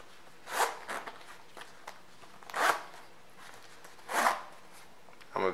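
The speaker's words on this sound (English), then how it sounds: "So now I zip the zipper up." The side zipper of a Rick Owens DRKSHDW Abstract Ramones high-top sneaker is zipped in four short, raspy pulls at an even pace, close and fairly quiet, with no talking.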